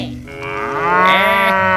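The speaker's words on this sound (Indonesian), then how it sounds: "Ini ada hewan sapi. Sapi mo." A cow gives a single long, loud moo that rises and swells close by, with no talk over it.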